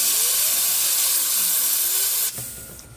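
Brake cleaner sprays from an aerosol can onto bike bearings in a loud, continuous close-up hiss lasting over two seconds before cutting off, leaving a fainter lingering hiss.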